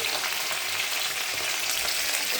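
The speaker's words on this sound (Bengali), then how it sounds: "এই মাছ ভাজা হচ্ছে" Fish frying in a pan for lunch, a close, steady crackling sizzle throughout the short stretch, with no talking.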